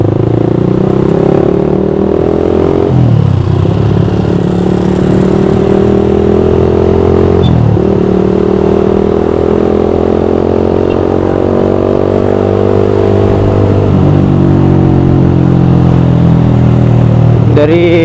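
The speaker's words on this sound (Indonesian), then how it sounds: "macet ini nyampe mana macetnya" Motorcycles and cars idle and creep along in a traffic jam, a steady close engine rumble with occasional revs running throughout, no talk.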